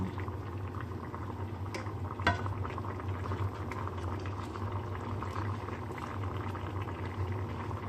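Chicken and bamboo shoot curry boiling in a pot, a continuous close bubbling and gurgling with a low rumble, one brief knock near the middle, no voices.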